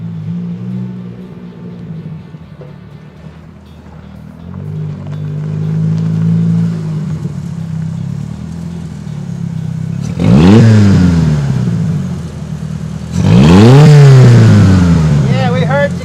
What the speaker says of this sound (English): Let's see that little Mustang engine.